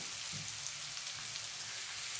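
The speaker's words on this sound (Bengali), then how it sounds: "এই চিকেনগুলো ভালো করে ভেজে নেব।" Chicken pieces and chopped onion frying in a pan, a steady, close sizzle with a soft crackle that runs unbroken throughout, no voices over it.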